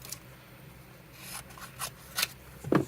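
Scissors cut down a sheet of Tomoe River paper nearby, a few quiet, separate snips and rustles that grow louder toward the end, with no talking.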